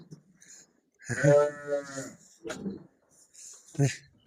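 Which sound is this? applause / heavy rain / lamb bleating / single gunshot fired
lamb bleating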